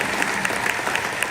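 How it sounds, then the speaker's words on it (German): Dense, steady applause from a large audience at the closing ceremony of the 5th CISM Military World Winter Games in Lucerne, honoring members of the army, filling the brief moment evenly and loudly. "Applaus für alle Angehörigen der Armee."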